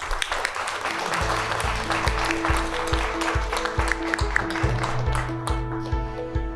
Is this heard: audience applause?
yes